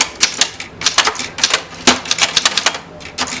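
An old working typewriter, a Corona, clacks under quick fingers, a dense run of sharp mechanical key strikes with uneven rhythm, close and loud with no talk.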